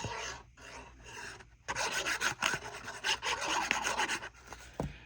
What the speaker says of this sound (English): I'm going to take this flap and fold it over